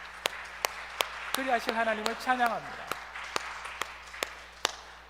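A congregation claps in a Toronto Presbyterian church service. The claps land as evenly spaced, sharp beats throughout, while a voice speaks and sings in the middle.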